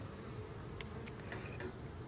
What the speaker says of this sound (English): Nice population of bees here.